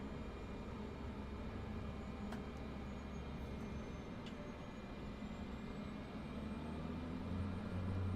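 Floatplane engine taxiing in Microsoft Flight Simulator 2024, a steady, low droning hum with faint clicks, constant and moderately quiet throughout.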